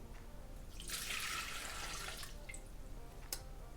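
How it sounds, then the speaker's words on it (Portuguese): Water is poured into a Thermomix (Bimby) bowl for baguette dough, a short, soft splashing pour lasting about a second, followed by a few faint drips and a small clink. "Vamos então colocar a água"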